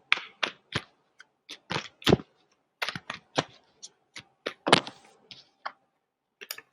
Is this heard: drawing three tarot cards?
yes